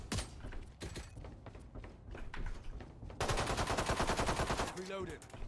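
Dense video game gunfire, rapid repeated shots blending into a loud automatic burst, with a muffled voice and other game sounds mixed underneath.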